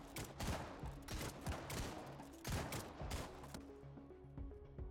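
Rapid bursts of gunfire crackle through a firefight in the Ascent of Ashes video game, volleys overlapping in loud, uneven clusters with heavy low rumble beneath and brief lulls between.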